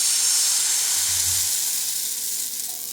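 Chitoi pitha batter hits a hot oiled kadai with a steady, loud sizzle and hiss that fades slightly over a few seconds, with no talking.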